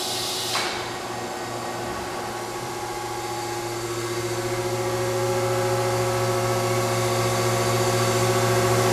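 An Onsrud 36210 automated router with an RS24 autofeeder runs in a workshop, a steady mechanical hum with a low droning tone that slowly swells louder, a brief knock near the start.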